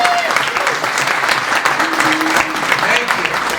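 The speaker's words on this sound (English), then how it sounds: "So give yourselves a huge round of applause." Audience at a morning community gathering applauds themselves, a thick continuous wash of clapping from many hands, loud and even throughout, with scattered voices faintly audible within it.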